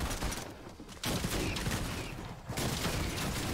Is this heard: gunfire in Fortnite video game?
yes